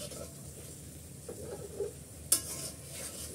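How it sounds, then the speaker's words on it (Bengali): Haleem spice mix sautéing in oil in a pan, with a faint steady sizzle, a few soft stirring scrapes and one sharp clink near the end, quiet and with no talking. "আমি এই মশলাটা ভালো করে কষিয়ে নিচ্ছি।"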